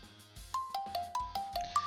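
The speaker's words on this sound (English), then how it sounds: "that's exactly when my phone rings" A video game phone ringtone from 9-nine- plays a quick run of bright electronic tones, one after another in an even, rising and falling pattern, clear and close.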